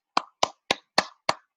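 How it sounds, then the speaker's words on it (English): A single person claps hands five times in an even rhythm, each sharp slap close and distinct against silence. "I'm clapping from here."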